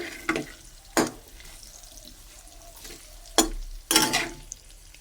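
Food frying in a pan until reddish in colour, giving a low broadband sizzle broken by a few sharp stirring clatters and scrapes, close by, with no talking.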